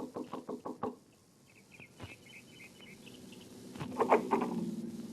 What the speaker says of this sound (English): knocked at the door of her small house